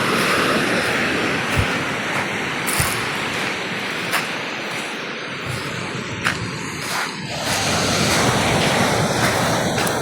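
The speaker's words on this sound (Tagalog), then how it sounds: "Malakas ang hampas ang alon ngayon dito." Strong ocean waves crash onto a rocky, sandy beach in a continuous roaring surf, with wind buffeting the microphone and occasional sharp gusts and thumps.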